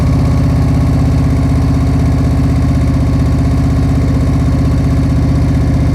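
A motorcycle engine idles loud and close during slow-speed riding practice, a constant throbbing low rumble held steady throughout with no voices.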